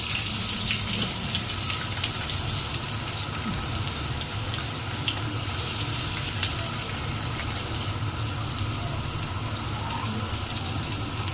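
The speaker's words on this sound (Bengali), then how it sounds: "পেঁয়াজটা দিলাম, এটাকে একটু ভাজা ভাজা করে নেব।" Onions fry in a pan for a chicken dish, a continuous even sizzle and hiss held close and steady throughout, with no talking.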